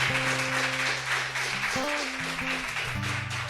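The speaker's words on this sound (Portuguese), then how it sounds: "Aplaudamos o nome de Maria." Catholic prayer-group congregation applauding in honor of the Virgin Mary, a dense, steady wash of clapping mixed with sustained keyboard notes that shift pitch throughout.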